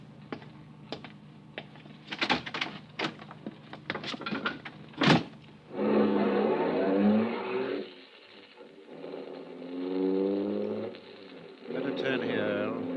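A car carrying five men, two in front and three in the back, pulls up and rolls along with a steady engine rumble and road noise, while voices talk over it.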